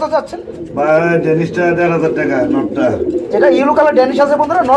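Fancy pigeons at a sale coo and call loudly up close, their throaty warbling rising and falling almost without pause, with a voice mixed in.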